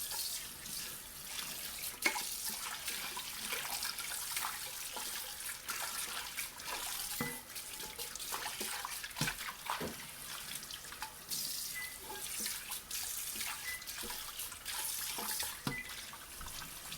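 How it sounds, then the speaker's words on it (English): Warm tap water runs steadily into a stainless steel pot during rinsing, a continuous close hiss and splash with scattered clinks and knocks, no talking. "Make sure you rinse with warm water."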